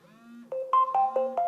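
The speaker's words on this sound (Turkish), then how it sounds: "ses çıkıyor arkadaşlar. Telefonunuzu bulmanız için bir özellik yani." A phone plays a ringtone, triggered from a Lemfo Ultra 8 (WS68) smartwatch's find-phone feature, heard as a quiet low tone followed by a rising series of short electronic beeping notes, close and alone.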